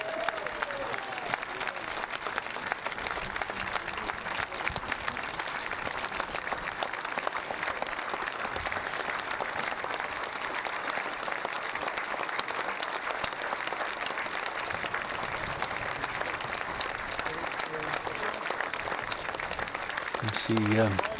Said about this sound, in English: Lauren applauding in the background